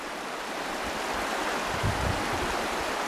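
A fast-flowing trout river rushes steadily and loud, a broad continuous wash of water close by with occasional low gurgles, no voices.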